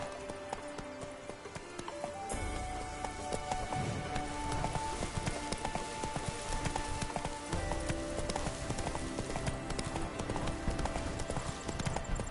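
Horse hooves gallop in a rapid, continuous clip-clop rhythm in The Witcher 3, fairly faint and steady, mixed with a rain-like patter.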